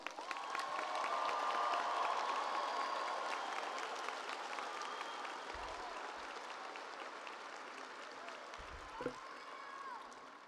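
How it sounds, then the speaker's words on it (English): A crowd at a high school graduation ceremony applauds the graduating class with sustained, enthusiastic clapping and some cheering, heard slightly distant in a large venue, with a few soft thumps. "Can we give everybody sitting before us, all these students, an enthusiastic round of applause?"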